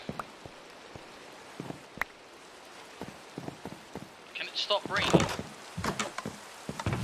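Steady rainfall in Minecraft, a soft continuous hiss under scattered game clicks and footsteps, with a brief louder burst of game noise midway.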